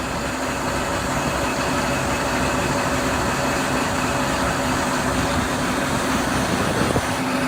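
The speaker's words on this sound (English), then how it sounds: "the tractor slowly crawls along and is pushed by the pressure of the grain in the bag" A tractor in neutral creeps along while a grain bagger fills a bag, a steady loud mechanical drone and hum running without a break, close by, with no voices.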